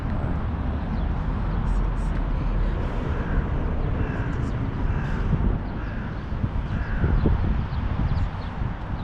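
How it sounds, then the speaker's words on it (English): Many crows cawing together, about forty birds gathered near roadside trash, with repeated caws over steady wind and low ambient rumble throughout. "I'd say just close to 40 crows."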